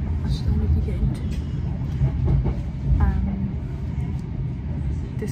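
Steady low rumble of a moving train carriage with faint rattling, heard from inside, under quiet background voices.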